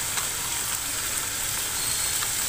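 Garlic and ginger paste frying with spices in a pan for egg biryani, a steady hissing sizzle heard up close with faint stirring scrapes, no voices.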